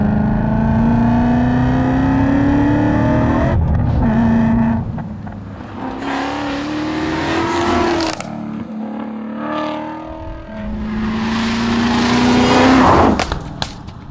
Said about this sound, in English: let me indulge a little bit in that supercharged V8 just to let you hear what this thing's like